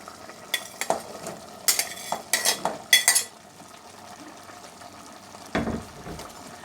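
Spoon scraping and clinking against a pot while papaya is stirred into simmering ginataang chicken wings in coconut milk, a quick series of close metallic knocks followed by a softer scrape.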